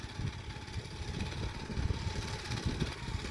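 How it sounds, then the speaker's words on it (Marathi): A large tractor's engine chugs steadily at idle, a low continuous rumble, fairly quiet and without voices. "भारी मोठा ट्रॅक्टर आहे थोडा"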